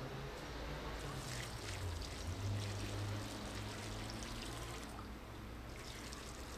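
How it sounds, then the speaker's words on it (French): First watering of a newly planted courgette seedling in a garden bed, a steady broad pour and trickle of water running continuously for several seconds, faint and alone without talk. "Je creuse ensuite tout le tour afin de pouvoir procéder à un premier arrosage."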